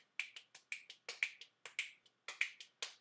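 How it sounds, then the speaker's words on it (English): Fingers snap as a nervous habit, a quick irregular run of about a dozen crisp, close snaps with short silent gaps between them, and no talking. "I'll, like, snap my fingers and, like, I don't know, clap with my fist"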